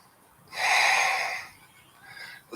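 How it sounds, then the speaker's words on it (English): One long, deep breath, a strong airy inhale and exhale during a power yoga practice, close and clear, fading before a short second breath begins. "take a deep breath. And exhale"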